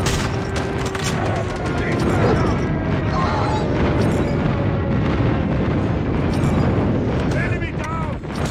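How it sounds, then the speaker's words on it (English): Call of Duty Mobile airstrike in a 10 v 10 match: a rapid volley of loud booming explosions and gunfire crackle rolls on continuously, with in-game radio voice callouts heard over the barrage. "Friendly airstrike incoming."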